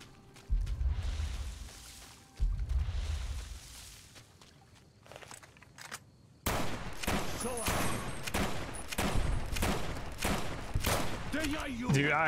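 Rapid bursts of gunfire ring out in Fallout: New Vegas, a few muffled shots first and then a loud stretch of repeated weapon fire with sharp regular cracks over game background sound.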